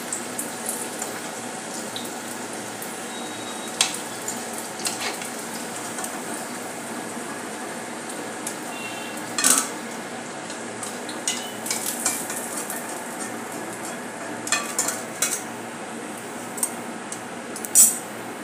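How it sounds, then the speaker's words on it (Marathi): Roll samosas deep-frying in hot oil, a continuous soft bubbling hiss with occasional louder clinks and splashes as pieces are lifted out, no talking. "अशा प्रकारे आपला रोल तळून झालेला आहे। बाकीचे तळून घेते।"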